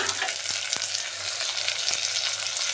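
Loud, continuous sizzling of green chillies and tomatoes sautéing in a pan, with a few sharp knocks of a utensil against the pan.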